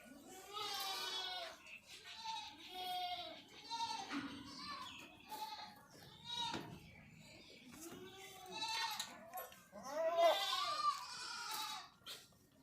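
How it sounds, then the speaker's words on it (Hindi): Goats in a farm pen bleat repeatedly while feeding, with several wavering calls rising and falling at close range and short quiet gaps between them. "मज़े से बकरियां खा रही है।"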